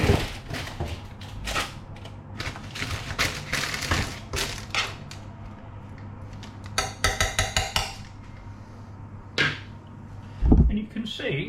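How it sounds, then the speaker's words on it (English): Roast potatoes rattled and shaken in a roasting pan, giving quick clattering bursts of rough scraping and knocking between quieter stretches, with a steady low hum underneath. "And then give said pan a shake"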